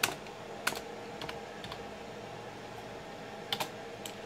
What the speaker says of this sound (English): After I type in the bloody password